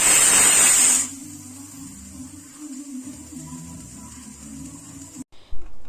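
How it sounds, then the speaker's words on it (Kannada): A pressure cooker of dal and vegetables for sambar lets out a loud, brief whistle, then settles into a quieter, steady hiss of escaping steam that runs for several seconds before cutting off. "ಈಗ 1 ವಿಷಲು ಕೂಗಿಸ್ಕೊಳ್ಳೋಣ."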